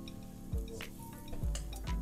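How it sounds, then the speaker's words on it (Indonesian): Battered, flour-coated candy dropped into hot frying oil, giving soft sizzling with a few low thumps and clinks of utensils against the pan, recorded close and fairly quiet. "Dan sekarang moment of truth, kita masukin permen goreng tepung."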